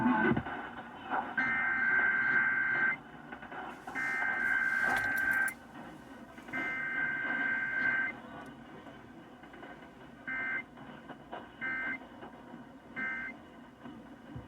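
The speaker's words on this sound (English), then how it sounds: "The following is a test of the emergency alert system." Emergency Alert System test on KDKA radio: three long, loud data bursts followed by three short ones, each separated by brief gaps, in a broadcast-quality tone.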